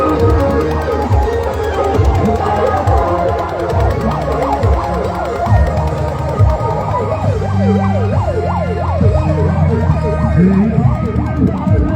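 A loud ambulance siren wails continuously in Siraha, Nepal, its pitch sweeping up and down in a fast, repeating pattern close by, with traffic rumble underneath.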